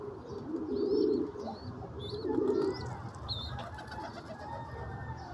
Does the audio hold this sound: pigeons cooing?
yes